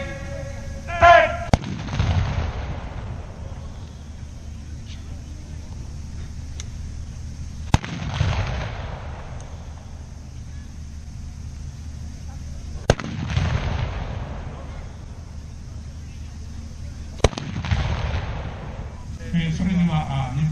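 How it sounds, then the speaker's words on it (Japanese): Antique matchlock guns fire in a Yonezawa domain gunnery demonstration at an outdoor festival, four sharp loud reports spaced several seconds apart, each followed by a rumbling echo, over a steady crowd and ambient hum. "それでは日本隊準備ができたようですので発砲に行きます。"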